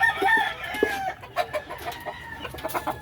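Hens and their chicks cluck and peep close by in a run of short, uneven calls, with soft chirps layered over a faint background hiss.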